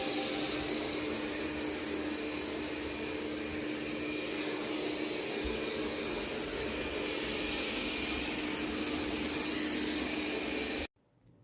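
A Roborock S6 MaxV robot vacuum runs with a steady, loud, broadband whirring hum, unbroken for about ten seconds before cutting off abruptly.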